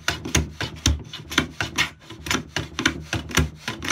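Hand plane trimming a mitre cut on a workbench shooting board, a series of about eight rhythmic rasping wood strokes, close and fairly loud, with no talking.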